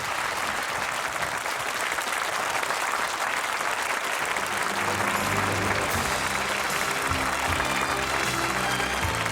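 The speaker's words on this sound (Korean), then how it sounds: "여러분 박수로 맞이해 주시기 바랍니다" A studio audience at a Korean TV broadcast applauds to welcome a Korean War veteran general onto the stage, steady dense clapping that fills the whole stretch, with faint background music rising partway through.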